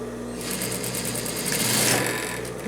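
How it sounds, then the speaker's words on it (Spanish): A sewing machine runs a fast, steady stitching burr as it backstitches over a dress seam, close and continuous for a few seconds. "Vamos a remachar hasta donde termina la costura"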